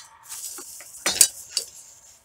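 A carbon steel kitchen knife slices through food on a cutting board, giving a few short, close cuts and light clinks, with one sharper stroke in the middle and no talking.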